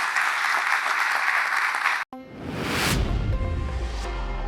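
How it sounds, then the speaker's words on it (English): Audience applause at the close of a talk at ContainerDays Hamburg, a conference session on network automation with Kubernetes operators. Steady, dense clapping fills the first two seconds, cuts out abruptly, then gives way to a loud musical outro. "A big round of applause for our speakers"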